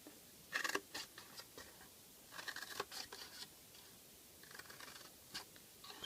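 Scissors snipping small sections of paper for a desk tidy box, a few quiet crisp cuts and rustles in short clusters, close by and faint, with no talking.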